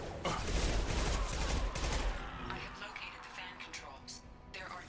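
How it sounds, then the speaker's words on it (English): In the Mass Effect 2 video game, rocket launcher fire and combat blasts crackle through a chaotic firefight, loudest at the start and then thinning out, while a person talks over the action. "Of course, there are guys with rocket launchers."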